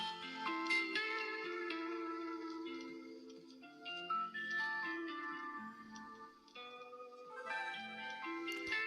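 A phone ringtone called Chalet, a soft, slow melodic chime pattern of bell-like tones that wanders up and down for several seconds, quiet and gentle with no voices over it.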